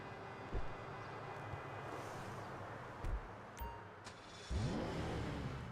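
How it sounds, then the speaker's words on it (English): A car engine in GTA 5 Online rumbles steadily with a few revving surges and thumps, fairly loud and close, with no talking. "let's jump in, listen to how the car sounds"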